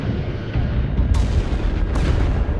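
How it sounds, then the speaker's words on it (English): Starship weapons fire in the Star Trek Resurgence video game: a dense, rumbling barrage with two sharp blasts cutting through about a second apart, loud and continuous throughout. "Targeting their life support systems. Commencing fire."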